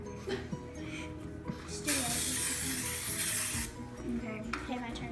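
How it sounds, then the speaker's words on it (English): A broadband hiss of coconut cooking spray lasting a couple of seconds, with a second short burst, amid kitchen clatter and background voices. "I would use coconut spray."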